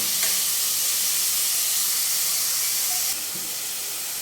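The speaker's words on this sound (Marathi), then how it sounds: "कांद्यांना पण आपण कमीत कमी 10 ते 15 मिनिटांसाठी छान फ्राय करून घेऊया" Onions for pav bhaji fry in a pan with a steady, close sizzling hiss that holds constant throughout, with no voices over it.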